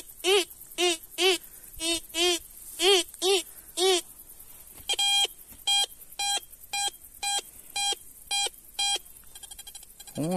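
TX-850 metal detector signalling over buried metal, a close series of sharp pulsing tones that start warbling and then turn into a steady, higher repeated beep, about sixteen evenly spaced bursts with brief gaps.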